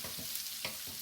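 Dry fideos pasta toasting in a pan with onions, giving a steady close sizzle broken by a few brief scraping stirs, with no voices.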